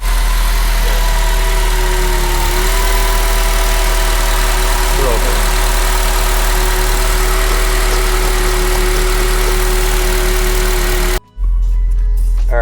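A 230,000-mile Acura RSX with a suspected clutch or throwout bearing problem hums along steadily while driving, a loud, even engine drone with a faint whine that cuts out abruptly near the end.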